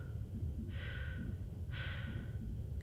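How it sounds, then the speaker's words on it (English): Slow breathing from the commander Shepard character in the sci-fi video game Mass Effect 2, two soft hissing breaths about a second apart over a low ambient rumble, close and quiet with no talk. "You can definitely hear Shepard's breathing."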